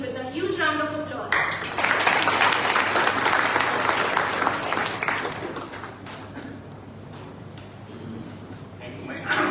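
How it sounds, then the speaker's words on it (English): Audience at a college inauguration event bursts into loud applause welcoming a speaker, the clapping swelling quickly after a short announcement voice, then thinning and fading while a few claps linger. "Now, I request everyone to please welcome Dr. Prakash Bhaskarrao Kulkarni with a huge round of applause."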